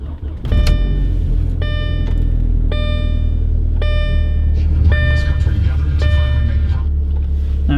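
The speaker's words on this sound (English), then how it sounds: "So let's start the car up." An Audi A4 Quattro Avant B7 with 162,789 miles and its check-engine light on cranks and catches, then settles into a steady low idle while a series of electronic warning chimes rings out.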